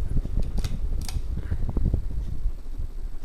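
A Four Seasons Venair 48-inch ceiling fan running at medium speed gives a steady close whir, broken by a few faint ticks and light mechanical clicks over about three seconds.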